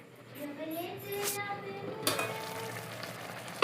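Tomato chutney sizzles and fries steadily in a pan, a constant hiss with a few brief louder crackles, while someone talks over it throughout.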